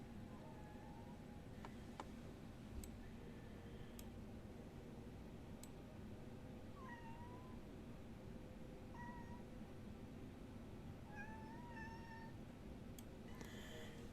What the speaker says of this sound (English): Mama Cat's never got on the table asking for attention before.